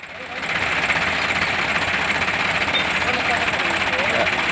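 Farmtrac 60 and Sonalika 745 tractors in a tug-of-war contest, a loud steady engine drone with dense vibration and crowd noise throughout, starting abruptly and holding constant.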